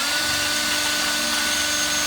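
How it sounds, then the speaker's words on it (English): A power drill whirs continuously while boring holes in a trailer during light installation, a loud steady buzzing motor filling the short moment, with no talk. "Go ahead and drill there."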